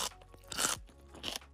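Crunchy raw carrot bitten close up, with two or three sharp crisp crunches and faint chewing crackle in between, quiet and without voices.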